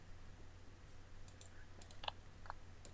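A computer mouse clicks a few times, short sharp clicks at irregular spacing over a quiet background hum.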